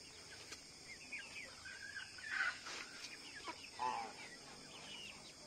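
Chickens cluck and squawk intermittently at moderate distance over a steady hissy background, with a couple of louder calls midway.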